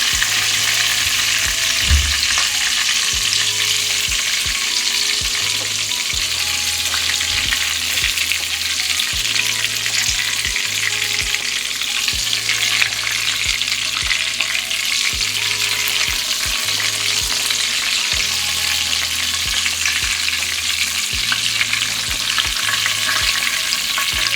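Chutney kebabs fry in a pan of hot oil with a loud, steady, crackling sizzle that runs unbroken throughout, joined by occasional low bubbling pulses and a few utensil clinks.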